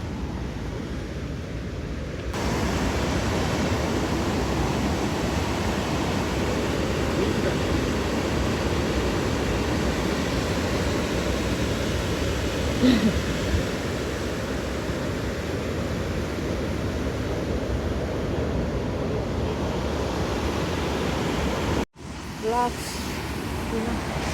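Rogie Falls waterfall in Scotland roars as a continuous broadband rush, steady and fairly loud throughout, ending with a brief handling bump.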